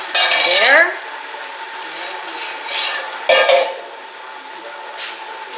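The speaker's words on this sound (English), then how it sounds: "Then when it's a little brown, you need to put your pork, marinated pork." Marinated pork for a pork curry frying in a pan, with steady close sizzling broken by scraping stirs and clinks of a utensil against the pan, no voices.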